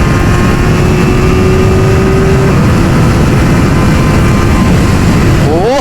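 A Kawasaki Ninja ZX-4R SE motorcycle engine pulls hard on a highway, a loud sustained roar buried in heavy wind rush, with a rising engine tone near the end.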